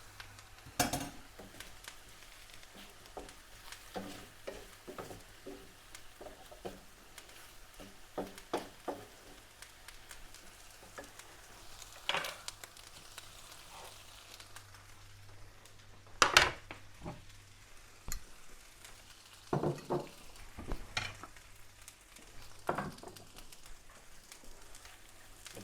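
Cream cheese is stirred into konjac pasta with mushrooms in a pan, giving soft, quiet scrapes and clicks at irregular intervals over a low background hiss, with a few sharper knocks of the utensil.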